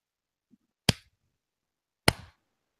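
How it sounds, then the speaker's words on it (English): Two sharp, isolated hand claps about a second apart, close and crisp in a quiet room, made as a sync marker for editing. "Got to get a good clap in there"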